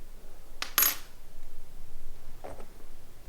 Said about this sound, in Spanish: Estas son las monedas españolas, las que se usaron hasta 1811